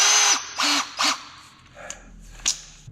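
A handheld power drill bores holes in bursts, three short high whirring runs in quick succession, then quieter scattered clatter and a final brief spin, close by and without talk.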